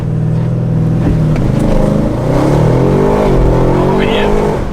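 An Audi RS6 Avant fitted with new downpipes and tuned, traction control fully off, revs hard during a launch, its engine note rising and climbing strongly over several seconds at close range, loud throughout with voices present.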